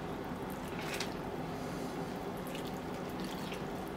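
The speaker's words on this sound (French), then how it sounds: "Maintenant, donc, je l'arrose un petit peu." Water poured onto the soil around a newly planted rosemary shrub, a steady soft splashing and trickling that continues throughout, close and even in level with no talking.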